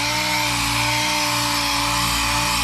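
Power buffer running steadily on the paint of a 1972 Dodge Challenger during a cut-and-buff job, a loud continuous motor whine with a droning buzz and no pauses.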